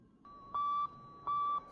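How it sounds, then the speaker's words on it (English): Morse code radio beeps, a steady pure electronic tone pulsing in short and longer bursts, two strong beeps standing out over a fainter continuous tone, clean and alone. "At first, radio could only send Morse code, just beeps."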